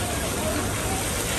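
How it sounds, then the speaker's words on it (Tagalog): Heavy rain pours in a dense, steady hiss that fills the short stretch without letup, loud and close, with faint voices in the background. "grabe ang lakas ng ulan"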